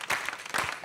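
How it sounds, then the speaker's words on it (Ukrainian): A studio audience on the Ukrainian 2023 TV show "Хто зверху?" breaks into a brief, fairly soft burst of clapping, a dense patter lasting under a second. "Це прямо оплески"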